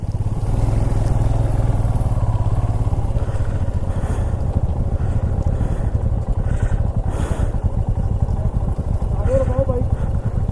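Royal Enfield motorcycles on a Spiti ride near a river rumble loudly with deep, continuous engine idle and throttle blips, close to the microphone, while people talk over the engine noise.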